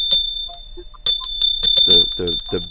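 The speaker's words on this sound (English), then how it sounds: "Here's the bell." A bright, ringing bell chimes a few times in quick succession, followed by someone speaking.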